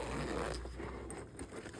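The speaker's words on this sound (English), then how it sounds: "The zipper here is quite nice." Zipper on a bag holding a 1985 Burton Performer snowboard being pulled open with a short, close, soft rasping run. The sound is faint.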